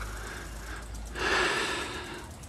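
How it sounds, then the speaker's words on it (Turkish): Someone pants heavily and close-up after running from the rain near the Green Tomb in Bursa, with one louder gasping breath midway and no talking. "Sudan kaçmak için koşunca biraz nefes nefese kaldım"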